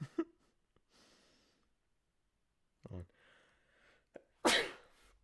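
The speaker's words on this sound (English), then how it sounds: "I hope everyone enjoyed the sneeze." One loud, close human sneeze bursts out near the end, preceded by sharp inhales, sniffles and quiet breathing as it builds up.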